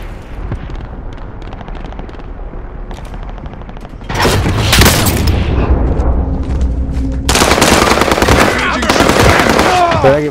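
Rapid bursts of gunfire and booming shots in a shooter video game, quieter crackle at first, then loud volleys erupting around four seconds and again near seven seconds, with a voice talking over parts of it.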